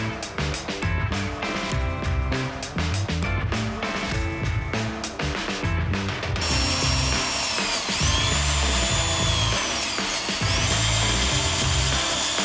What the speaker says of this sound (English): Before I do that, I think I have to drill a hole in the top